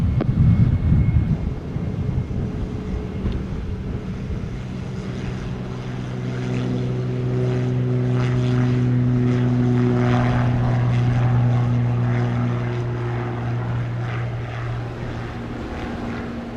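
A propeller airplane takes off from runway 07 at Montego Bay, Jamaica, its engine drone swelling into a loud, steady harmonic roar that holds for several seconds, with no voices.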